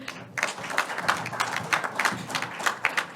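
Applause from an audience at a ceremony launching a vocational excellence program, a lively burst of many hands clapping in uneven rhythm, moderately loud in a hall.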